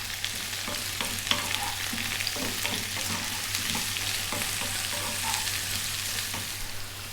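Fresh whole chilies fry in a pan of pumpkin curry with a steady, close sizzle and crackle. Occasional stirring scrapes break through, and a faint low hum runs underneath.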